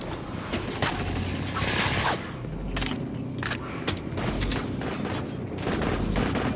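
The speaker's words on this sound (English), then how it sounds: "Null cannon targeting MCC." A null cannon in the video game Dust 514 fires in a dense barrage of heavy booms and thumps, repeated blasts stacking over a constant battlefield rumble.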